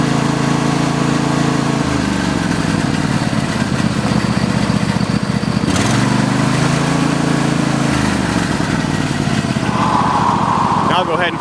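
An MTD lawn tractor engine runs loud and close, a steady rough drone that revs up and then settles back down partway through, with a faint higher whine near the end.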